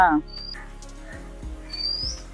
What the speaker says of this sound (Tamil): அழகாக ஒரு குருவி கத்துது பாருங்க கேட்குதா